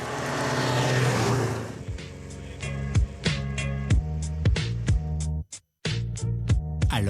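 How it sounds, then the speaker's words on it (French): A 1970s Alfa Romeo rally car driven hard, its engine roaring loudly and then revving through repeated sharp gear changes and throttle bursts, with a brief cut to silence before the engine note returns. "Alors que Thomas teste les limites de son Alfa"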